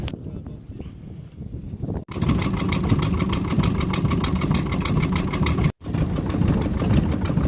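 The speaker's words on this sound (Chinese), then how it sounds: "机器刚启动" A fishing boat's engine, just started, idles with a loud, steady mechanical chug and clatter close by. Brief cuts interrupt the rumble, and quieter background noise comes before it.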